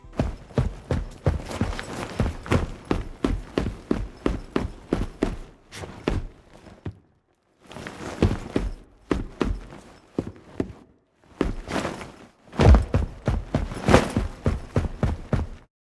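Foley footsteps for a Battlefield 6 sound redesign, with gear bag movement: a steady run of close, crisp steps and rattling kit, broken by short pauses before the stepping resumes. No one speaks.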